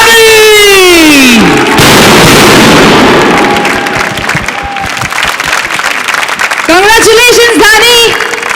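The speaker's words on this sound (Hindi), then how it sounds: "रेडी 1 2 3 जोरदार तालियों के साथ" A loud audience bursts into sustained applause and cheering at a dance competition grand finale, a dense clapping wash that fills most of the stretch between musical swoops and effects.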